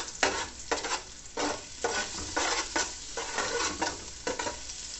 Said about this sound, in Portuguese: Vamos dar aqui uma douradinha aqui nesse alho